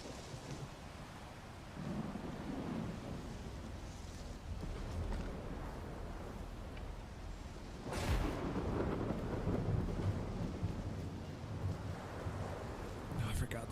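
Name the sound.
thunderstorm with thunder and rain in S.T.A.L.K.E.R. 2 video game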